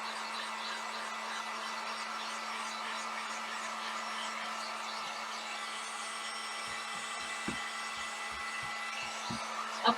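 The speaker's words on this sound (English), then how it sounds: "if you're drying it with a heat gun, you want to get it where those big letters are" A heat gun drying ink on a printed T-shirt gives off a continuous, steady whirring blow with a low hum, fairly close, and a few faint clicks and taps toward the end.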